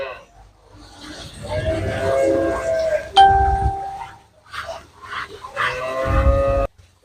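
Several long, loud moos from cows for sale close by, some freshly calved, separated by brief pauses, with a little muffled background noise between calls.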